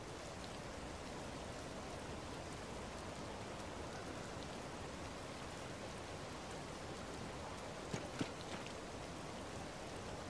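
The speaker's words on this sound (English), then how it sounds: "I hate the rain. It always comes at the wrong time." Steady rain falls in the video game Zelda: Tears of the Kingdom, a constant dense hiss with no breaks and a couple of faint clicks near the end, with no one talking.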